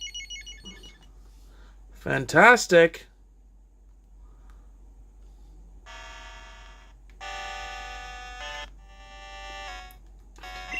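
Pokemon game running on a repaired Game Boy SP with a replaced battery, giving a brief loud chime, then a run of bright electronic beeping tones and melody, with someone talking around it.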